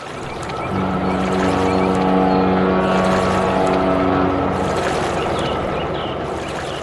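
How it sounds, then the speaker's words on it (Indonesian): Giant cargo ship carrying construction vehicles, heard as a steady, loud engine drone that holds throughout with a low hum and a rumbling swell in the middle, with no voices. "Lihatlah kapal kargo raksasa itu."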